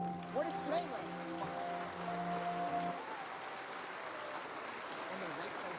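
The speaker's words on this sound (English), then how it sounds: "Can we please get a round of applause for all of them?" A school audience applauds at a Veterans Day assembly, steady clapping from a crowd at moderate distance, with a voice talking over the first half before the applause carries on alone.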